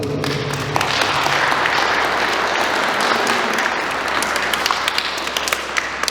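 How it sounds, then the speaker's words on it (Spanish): Wedding guests applaud the newly married couple Ramiro and Yuli, a loud, sustained burst of many hands clapping that fills the room for several seconds without pause. "Vamos a felicitarlos a ellos con un fuerte voto de aplausos."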